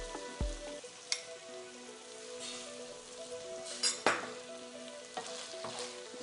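Village-style prawn fry sizzling in a pan as spice powder is stirred in, with a steady frying hiss and occasional scrapes and clinks of a spoon against the pan.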